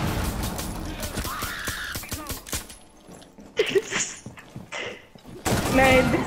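Gunfire in Rainbow Six Siege: a rapid burst of shots at the start, followed by scattered louder cracks and impacts, with players talking over the action.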